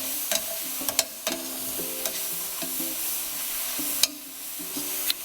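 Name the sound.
stirring food searing in bacon grease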